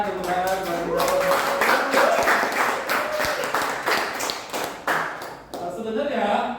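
Audience applause fills the room at the close of a talk on seven highly effective habits: dense, steady clapping with scattered sharp taps, loud and close throughout, tapering briefly near the end before resuming.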